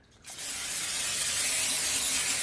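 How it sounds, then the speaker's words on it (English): A steady hiss of cooking spray onto a small sheet pan starts abruptly and keeps going, close and fairly soft, with no talking over it. "I'm going to spray a sheet pan"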